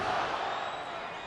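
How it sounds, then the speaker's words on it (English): Baseball stadium crowd at a Giants–Rockies game in Colorado giving a brief swell of cheering and roaring, a broad wash of voices that fades quickly. "Literally the first time the crowd can get involved in any way"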